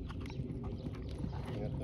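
Horse hooves clip-clopping in a steady rhythm during a riding lesson, close and fairly constant, with a low rumbling background and some voices around.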